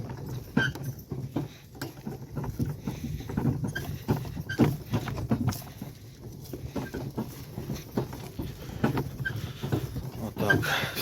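A draft horse mare's hooves clip-clop in an uneven, steady stream of close knocks against a rough background, continuing throughout at moderate loudness.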